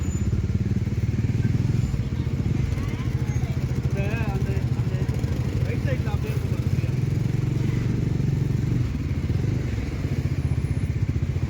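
Many motorcycles crowd the parking area at a temple trekking destination near a waterfall, a continuous close engine drone with clatter, under a voice.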